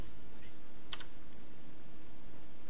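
Computer keyboard keys clatter during a Smite match, a short, faint burst of clicks near the start and then a few scattered taps over a low background hum.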